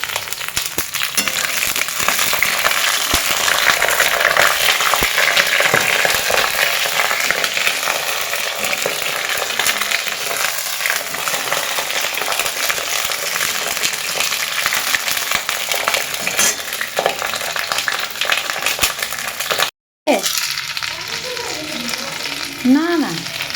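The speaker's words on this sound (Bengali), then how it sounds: "বেগুনগুলোকে অল্প ভাজতে থাকবো।" Eggplant pieces fry in a pan for a sustained stretch, giving a steady, loud, broadband sizzle with scattered crackles and a brief dropout near the end, with no talking.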